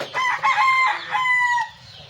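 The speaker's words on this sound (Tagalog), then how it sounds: "tingog pang manok" A rooster crows close by, one loud drawn-out call with a rising then trailing shape, heard alone.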